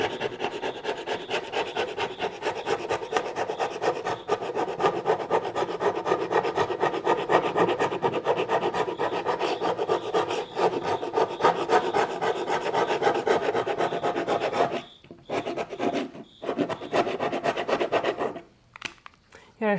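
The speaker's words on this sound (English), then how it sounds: "Seriously, this scraper is great." A hand scraper rasps steadily across wood veneer during refinishing, a continuous scratchy rubbing close up that breaks off into a few short strokes near the end.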